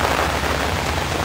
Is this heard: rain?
yes